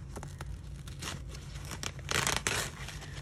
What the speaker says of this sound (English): Tear out as much of it as you can without unhooping it.